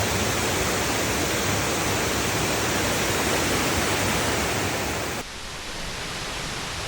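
Roaring rush of Burgess Falls, a massive waterfall downstream of a dam, heard as a steady, dense broadband wash that stays loud and unbroken, then drops slightly in level near the end.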